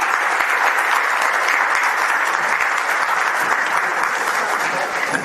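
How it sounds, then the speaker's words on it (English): Steady, dense applause from a large audience at a Global Investor Conference in Surat, honouring Shri C.R. Patil; loud and sustained throughout with no voices over it. "Once again, a huge round of applause for Shri C.R. Patil Sahib."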